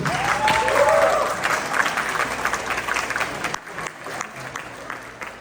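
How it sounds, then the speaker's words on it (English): Audience applause at an India Independence Day celebration in 2023, following the mayor's speech; dense, steady clapping from a large crowd, loudest at first and gradually thinning out over about five seconds. "let's give it one more round of applause"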